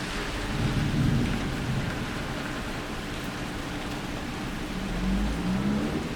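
A rainstorm with steady, close rain hissing throughout and low thunder rumbling in the distance, swelling early on and again near the end, with no talk.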